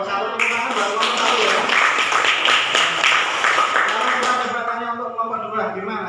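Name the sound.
class applauding group 1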